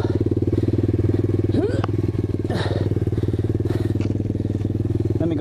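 A 2019 Apollo 125cc dirt bike stuck in place with its rear wheel spinning out, the engine holding a loud steady high-revving drone with rapid pulsing, plus a few brief scrapes and clatters over it.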